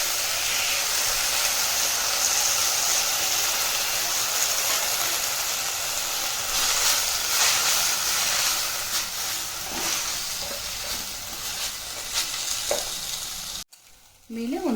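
Mint leaves roasting in a pan for chutney, giving a steady sizzling hiss with light scraping and stirring sounds, close and continuous before a brief pause and clatter at the end.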